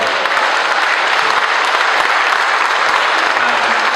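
An audience at a law enforcement salute event claps in sustained, dense applause. It is loud and continuous and fills the room, with no speech over it.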